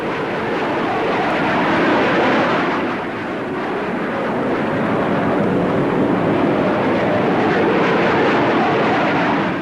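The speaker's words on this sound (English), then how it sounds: "The Avro CF-100 is a 2-seater long-range all-weather fighter." An Avro CF-100 two-seat long-range all-weather jet fighter flying overhead at an air show, its loud, continuous jet roar swelling and holding steady with no voices.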